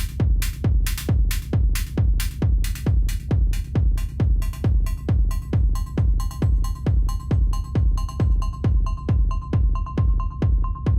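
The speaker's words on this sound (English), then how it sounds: "Let's hear how that sounds just with the kick drum" A techno pattern pairs a four-on-the-floor kick drum with a bright synthesizer sine-wave ping, steady evenly spaced hits with a tonal ping growing more prominent over the loop.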